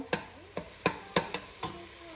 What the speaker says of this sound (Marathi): आता जरा कांदा ब्राऊन होईपर्यंत फ्राय करून घ्यायचा आहे